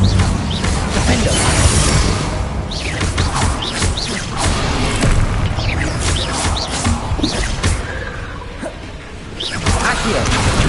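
Explosive Bombarda spell blasts in the Hogwarts Legacy video game, loud repeated booms and crashes with whooshes packed into a dense, continuous battle din, mixed with other spell effects and shouted incantations.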